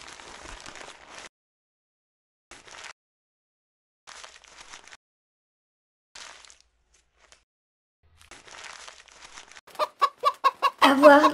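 Hens cluck in a quick run of loud, close, rhythmic calls near the end, after a stretch of soft scattered rustling and near silence.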